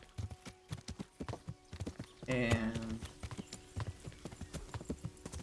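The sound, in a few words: horse hooves clip-clop in Kingdom Come Deliverance video game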